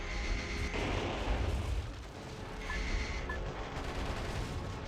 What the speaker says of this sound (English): getting shot with a cannon?